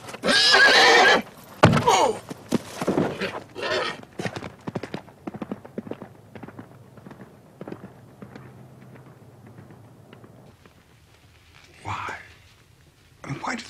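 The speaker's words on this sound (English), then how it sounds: "the horse lashed out and caught him a fatal blow on the forehead." A horse neighs loudly in an old stable, with hooves clattering and stamping as it lashes out, then scattered thuds, a faint whisper-like voice, and another short whinny.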